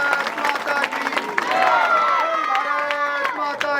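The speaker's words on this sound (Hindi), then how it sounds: "अब इस बात पे इनके लिए ताली हो जाए" A village crowd in Lamba, Tonk, Rajasthan applauds Erik Solheim, scattered clapping and cheering blended with crowd noise and shouting voices, lively and fairly close throughout.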